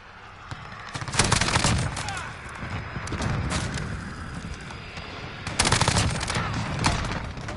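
Automatic weapon fire in Call of Duty Modern Warfare bursts out in loud, dense volleys, with rapid fusillades near the start and end and steadier shooting between, and a faint voice underneath.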